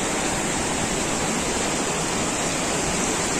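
A waterfall in West Sumatra roars as a dense, unbroken rush of falling water, loud and close, with no voices.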